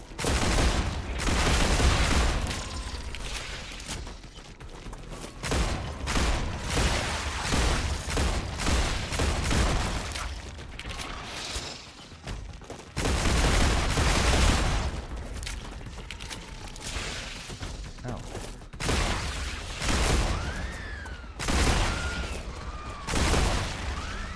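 Gunfire from weapons shooting at enemies in the survival automation game Star Rupture: loud rapid volleys and bursts of shots that repeat throughout, close and dense, with short pauses between salvos.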